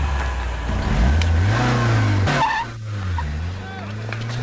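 A car engine hot-wired by touching two wires turns over and revs up, rising and falling in pitch close by, with people talking over it.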